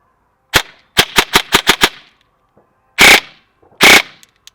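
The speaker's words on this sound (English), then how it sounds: "this is my personal gun, and this is with it, with no amplifier whatsoever" Bare-muzzle rifle firing with no amplifier attached: a rapid string of six sharp cracks, then two single louder, longer blasts about a second apart, close and loud with no talking.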